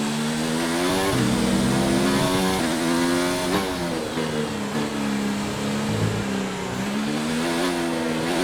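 Simulated Formula 1 race car engine from a racing video game at the Russian Grand Prix, a loud continuous high-revving whine that rises and drops with gear shifts and throttle changes throughout, with no talk.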